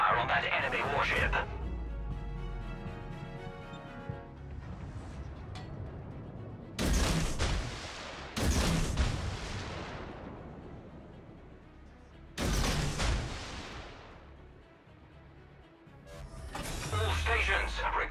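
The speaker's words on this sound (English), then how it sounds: "Concentrate fire on that enemy warship." Naval guns fire in World of Warships as several heavy booming salvos with long rumbling decays, spaced a few seconds apart, while game voice lines speak between the shots.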